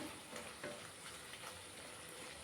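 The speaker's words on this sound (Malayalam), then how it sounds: "വെണ്ടയ്ക്ക ചേർത്ത് കൊടുത്ത് നന്നായി മിക്സ് ചെയ്യാം." Okra is stirred into a sizzling masala curry in a pan. The frying hiss is soft and continuous, with light scraping stir strokes and no voices.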